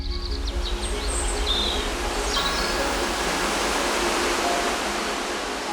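Mountain stream water flowing in a steady, dense rush, loud and close, with faint bird calls high above the wash and no voices.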